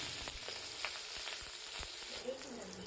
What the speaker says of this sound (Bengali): তেল গরম হয়ে গেলে প্রথমেই কাঁচা লঙ্কাগুলো দিয়ে দিলাম।